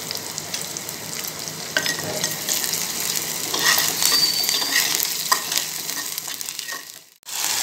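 Onion frying with ginger garlic paste and salt in a pan for a prawn thokku, a steady close sizzle with scraping stirs throughout, broken by a brief quiet gap near the end.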